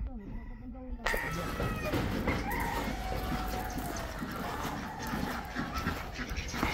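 Dogs pant and whimper amid a busy, noisy outdoor background on a free-range country poultry farm, with someone talking at the start and other animal sounds, including ducks, mixed in.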